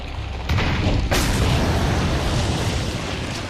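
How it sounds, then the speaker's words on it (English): A rocket launcher fires in the VR game Resident Evil 4: a heavy, booming blast that swells suddenly and rumbles on loudly, with a second surge shortly after. "Get your rocket launcher ready."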